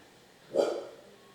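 A single muffled dog bark, fairly faint and distant, against a quiet background.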